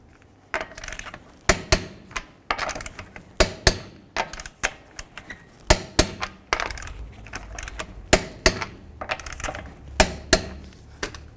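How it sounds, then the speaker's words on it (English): Torque wrench clicking as lug nuts are tightened on a 2008-2020 Dodge Grand Caravan, a series of sharp metallic clicks and taps in an irregular rhythm, close and fairly loud with no talking. "Torque these lug nuts to 100 foot-pounds."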